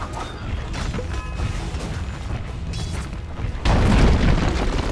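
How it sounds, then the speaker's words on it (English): A tower collapsing in Dota 2, a heavy mechanical rumble with creaks and a booming crash that swells louder near the end over steady in-game ambience. "Dire's bottom tower has fallen."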